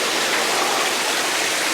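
Water jets splash and spray in a steady, loud, broadband rush with no breaks and no voices.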